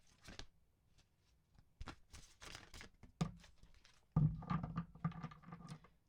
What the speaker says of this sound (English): Probably going to have to pull one because these are really hard to shuffle.